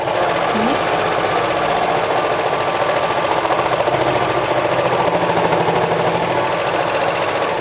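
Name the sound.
serger sewing cardigan skirt pleat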